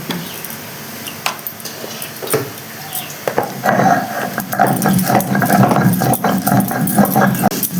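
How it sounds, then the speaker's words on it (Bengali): Cumin and coriander are ground into a paste by hand, with irregular scraping and rattling strokes close by that grow busier and more steady partway through. "জিরে, ধনে, জিরে এটাই বেটে নেওয়া"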